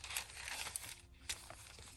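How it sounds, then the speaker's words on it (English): Crinkly noisy paper inside a fabric junk journal rustles and crunches softly in several quick bursts as it is handled up close at low volume. "We have some more of the noisy paper."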